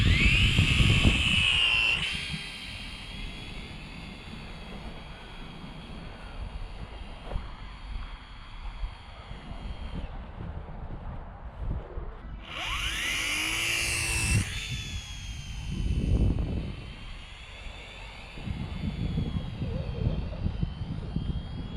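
Small electric motor of an Air Hogs Zip Wing toy plane running in flight outdoors: a thin high whine that fades and returns over steady wind rumble, with no voices.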